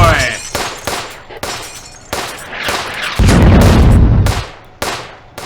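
Gunfire and explosions in the WW2 real-time strategy game Firefight: loud, close bursts of shots and booms in rapid irregular succession, with a sustained heavy roar of firing near the end.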